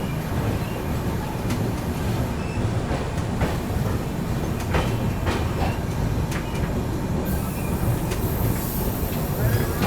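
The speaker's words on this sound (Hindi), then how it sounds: "अपनी ट्रेन यहाँ पर स्किप कर रही है गोंडा जंक्शन को, अपनी अरुणाचल AC।" Arunachal AC Superfast Express, a long-distance Indian passenger train, running through Gonda Junction without stopping: a loud, steady rumble of wheels on rail with repeated clickety-clack beats and brief metallic squeals, continuous for the whole stretch.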